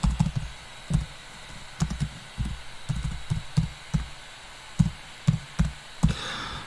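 Typing on a computer keyboard, a series of close, irregular key taps and clacks in short runs, fairly loud against a quiet room, with no talking.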